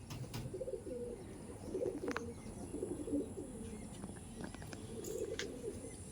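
Andhra pigeons coo softly in repeated low, rolling phrases, with a few faint chirps over a steady background hum and hiss.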